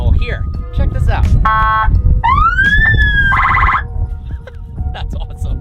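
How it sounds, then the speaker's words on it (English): A panel on a Rezvani Tank SUV cycles through a series of police siren patterns: short chirps, electronic yelps, a rising wail and a buzzing horn, all loud and close. Talk runs underneath the sirens. "there are a series of police sirens that you can activate using the panel here"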